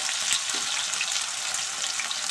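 Potatoes fry in a pan with a steady, bright sizzle while being stirred, a continuous close hiss with small scraping ticks and no talking.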